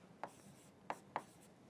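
Chalk or marker strikes on a board during a physics lecture, three short sharp taps with a longer gap after the first, close and fairly quiet with no speech.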